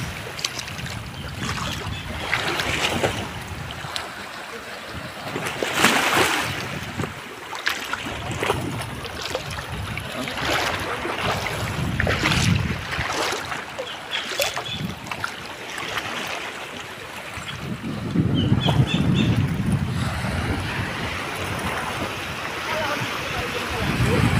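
Sea waves wash against a sandy beach at a rock-formation shore in Batangas, a close, continuous sloshing and splashing that swells and recedes, with voices heard at times.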